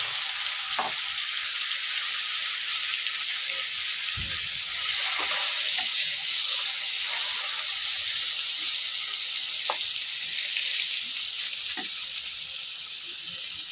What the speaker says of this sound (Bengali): এই ড্রাই ফিশটাকে এখন আমি ভেজে নেব